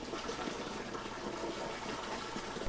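Freshly collected maple sap being pumped off in a sugaring operation gives a faint, steady gushing and trickling of liquid, continuous and even throughout.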